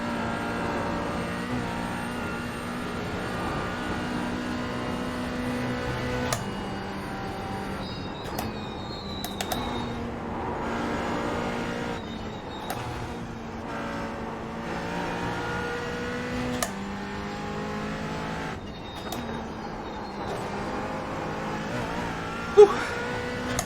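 Race car engine in a racing video game at the Nordschleife, a steady high revving drone with gear shifts and pitch changes, loud and continuous with occasional thumps.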